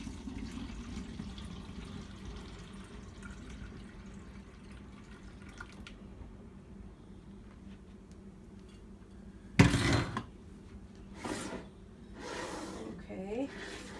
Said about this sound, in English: So we're just going to pour it in.